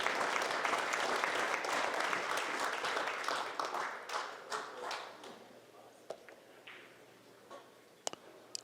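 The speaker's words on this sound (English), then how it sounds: "Knowledgeable crowd, they will applaud when they're supposed to" Applause from a knowledgeable crowd at a 9-ball pool championship, a dense burst of clapping that thins out, with scattered last claps and a few sharp clicks as it fades.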